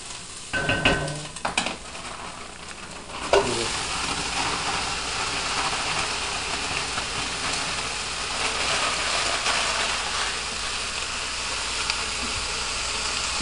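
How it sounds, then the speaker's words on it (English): Onions sizzle steadily in a pan with a broad, hissing crackle, a few scraping stirs near the start, then continuous frying with no talking. "The onions have been frying for about 3 minutes now."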